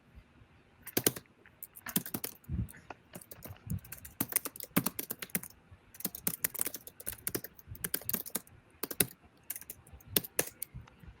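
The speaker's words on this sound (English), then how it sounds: "we'll just get a clean audio of the typing, okay?" Typing on a computer keyboard during a live stream night recording, a steady run of crisp, close key clicks in irregular bursts over about eleven seconds, with no talking.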